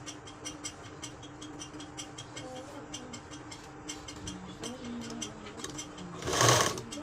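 A sewing machine stitches a blouse in a quick, steady run of mechanical ticks, ending in a louder brief burst.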